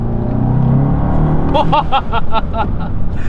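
A modified Volkswagen Golf GTI TCR Mk7.5 hot hatch holds a steady engine drone from inside the car, then a quick series of rising rev bursts or gear-change pulses; loud and close, with no talking.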